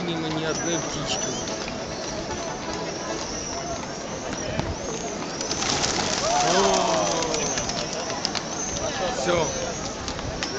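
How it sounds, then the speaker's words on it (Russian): Pigeons cooing, soft repeated coos and bird calls mixed with rustling and footsteps, heard under frequent nearby talking. "Хватит голубей."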